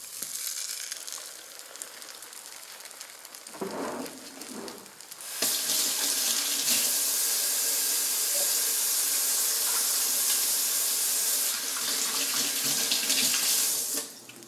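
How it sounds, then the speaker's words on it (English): Tap water running into a kitchen sink while egg mixture is washed off hands, a few seconds of quieter shuffling before the stream opens up into a loud, steady rush that holds to the end. "make sure to wash your hands. Get that egg mixture off your hands"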